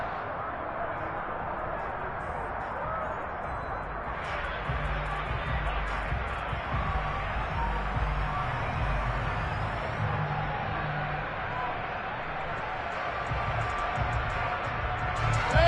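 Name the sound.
football stadium crowd cheering before a big third down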